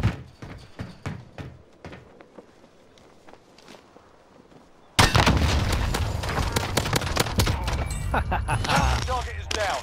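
Video game gunfire breaks out during a team firefight, with a burst of loud, dense shots and clatter erupting about halfway through after quieter footsteps and movement sounds.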